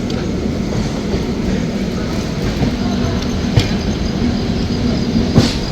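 The Sealdah–New Delhi Rajdhani Express, hauled by a WAP7 electric locomotive, rolls along with a steady, loud rumble heard from inside a 2AC coach, with faint wheel squeals and occasional clicks.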